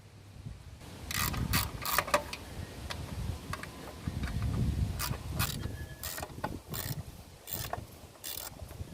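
Hand tools work bolts loose from a drag kart flywheel housing, with a series of quick ratcheting clicks in several bursts and some low clunks and scraping between them, close by and fairly quiet.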